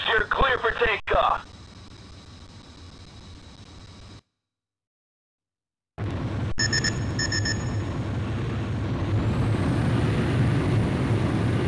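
An F-18E Super Hornet taking off from a desert airbase in Ace Combat Joint Assault: radio chatter, then a brief silence, then a steady roaring jet engine that swells and rises in pitch.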